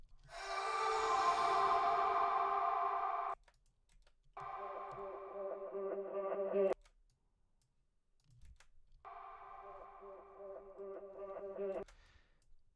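Synth or instrument notes run through an analog delay effect with heavy reverb, playing in three loud sustained bursts with repeating echoes, separated by short gaps of near silence.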